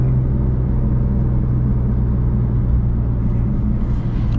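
A BMW M3 engine after a manual downshift gives a loud, steady low rumble close by, with a droning hum that holds throughout.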